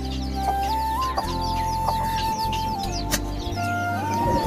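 Chickens cluck and chirp in short bursts over a steady, loud background hum, with a few brief sharp knocks.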